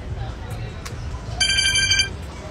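A telephone rings in a single short burst of bright electronic tone, clearly audible over a continuous murmur of background chatter and low rumble.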